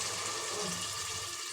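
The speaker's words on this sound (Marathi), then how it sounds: "याच्यामध्ये आता पाणी टाकून घेते" Water poured into a pot of sautéed whole masoor lentils, a steady close rushing splash throughout, with no voices.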